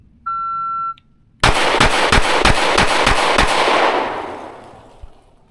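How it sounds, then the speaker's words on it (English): A Canik Prime pistol fires seven rapid shots from low ready in a qualification drill, loud sharp cracks in even succession after a brief timer beep, echoes fading out afterward. "Draw and place gun in low ready, fire 7 to the body."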